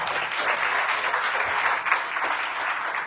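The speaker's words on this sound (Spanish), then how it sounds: "Un aplauso para los..." Church congregation applauding at a family-day service: steady, dense clapping from a crowd throughout, moderately distant and even.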